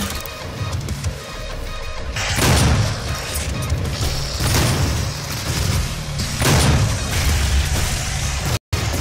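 Rocket explosions in the video game Doom, several heavy booming bursts spaced a couple of seconds apart over continuous game noise, loud and close, with a brief cut near the end.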